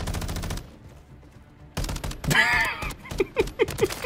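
Gunfire from an invisible-gun glitch in Modern Warfare III: a short burst of rapid shots, a pause, then another burst followed by a few spaced single shots, moderately loud in game audio.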